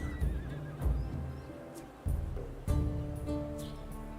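Horse neighing in the strategy game Humankind, several loud whinnies in sequence with faint hoof clip-clops, no talk over them.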